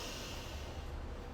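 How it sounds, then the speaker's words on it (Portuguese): A forceful, noisy exhale pushed out through the nostrils with a strong abdominal contraction, part of a lung-cleansing breathing technique; a steady close breathy rush fills the moment, alone without talk. "vai soltar o ar em menos de meio segundo por elas, com força e ruído, fazendo uma forte contração abdominal"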